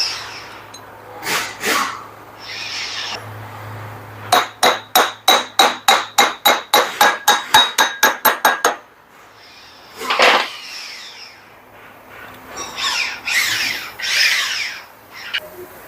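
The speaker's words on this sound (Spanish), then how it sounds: "A los tornillos, llave Bristol." Allen key working screws on a metal fan base being fitted to a Ford Cargo 1721 truck: a quick burst of about fifteen sharp, even metallic clicks, with scattered clanks of parts and tools before and after.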